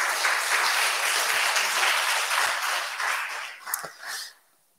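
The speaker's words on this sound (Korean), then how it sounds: "박수 부탁드립니다" An audience claps at an evening of poetry and music for Daegu citizens, a sustained wash of applause that holds steady, then thins into a few scattered claps and fades to near silence.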